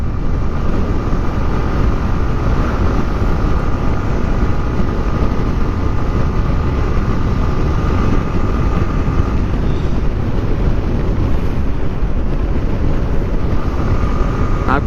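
A motorcycle ridden on a foggy, wet road in Bangladesh, giving a loud, continuous roar of engine and rushing wind that stays even and unbroken throughout.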